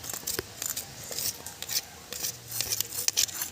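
A knife works through snakehead fish on a cutting surface, light scraping and tapping strokes with occasional sharp clinks, close-up and fairly quiet with no talk.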